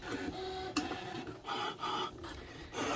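A Brother ScanNCut DX cutting machine runs steadily, its motorized carriage whirring and rasping in repeated passes with brief pauses between strokes, fairly quiet and heard alone.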